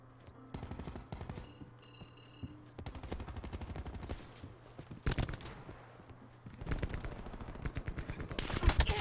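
Rapid bursts from the War Machine grenade launcher in Call of Duty Black Ops 4, a string of sharp close shots and thumps over game background noise, growing louder and denser toward the end.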